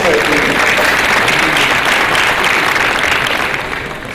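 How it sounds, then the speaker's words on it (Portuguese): Audience applause at a round-table talk event, a steady burst of clapping from a seated crowd that holds loud for several seconds, then tapers off at the end. "Salva de palmas para ele."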